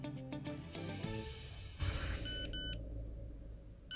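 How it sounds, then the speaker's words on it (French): A phone sounds a short electronic text-message alert, a few bright tonal beeps in quick succession, clear and close, over a faint background hum from a dramatic TV series scene, with no speech. "Texto de Samir"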